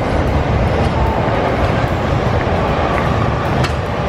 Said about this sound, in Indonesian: Tuh, langsung ada kereta, Cio.